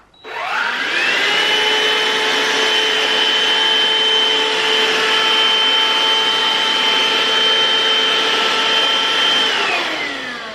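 A Black & Decker 18V cordless stick vacuum motor spins up and runs on setting 1 with a steady, high whine for about ten seconds, close by, then begins to wind down.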